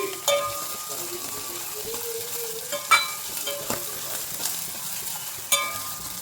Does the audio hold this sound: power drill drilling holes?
no